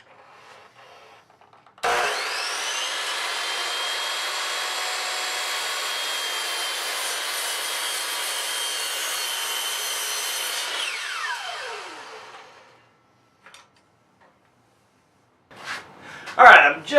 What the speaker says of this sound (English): Back in the shop, I can cut both boards at the same time